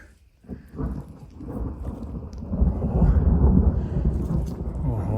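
A deep rumble of thunder rolls and builds over the Carpathian forest, low and heavy, swelling toward the middle and lingering without any clear break.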